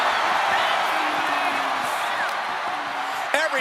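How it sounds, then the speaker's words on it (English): A packed arena crowd in WWE 2K25 roars and whoops in a dense, continuous wall of cheering, with a commentator's voice running over it. "Every person in this capacity crowd is on their feet"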